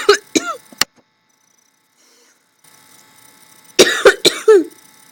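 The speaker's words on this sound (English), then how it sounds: "I'm sorry, I've been coughing on you." Several sharp coughs close by, a burst at the start and another cluster after a quiet pause, with faint background hum.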